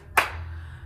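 A single sharp hand clap rings out close and bright, followed by a short fading tail over a low background hum.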